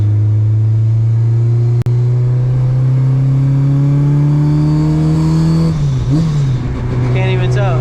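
A supercharged K24 engine drones loudly at steady, climbing revs, then its pitch dips and wavers before holding again, heard from inside the car with a voice in the cabin.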